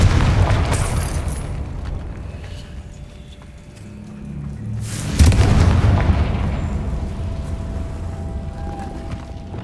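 Confringo fire spell explosions in the Hogwarts Legacy video game: a deep rumbling boom opens, then a second heavy blast about five seconds later, both loud and close, each trailing into a long low roar.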